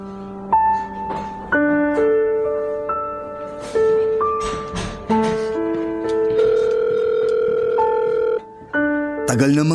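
Phone ringback tones ring steadily while a call waits to be answered, each rise and break of the tone clear and upfront before a sudden rustle at the very end.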